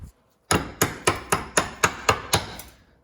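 Eight sharp metallic smacks of a metal part from a Ford 8.8 rear axle struck against a vise in quick, fairly even succession, loud and close, each ringing briefly before the next strike; no voices.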